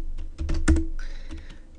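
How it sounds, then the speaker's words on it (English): A computer keyboard clacks as a command is typed into a Linux terminal, with a quick close run of keystrokes and one heavier key press. "let me right-click, open up a terminal, and let me type vim etc"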